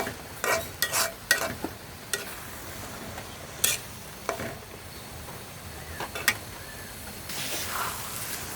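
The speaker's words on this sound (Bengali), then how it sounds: "আমি একটু লাড়তেছি, একটু চিংড়ি মাছগুলোর সাথে একটু মিক্স হোক" Prawns for a prawn chorchori curry are stirred in a pan, with a quiet underlying sizzle and intermittent scraping strokes of a spoon against the pan, close and without speech.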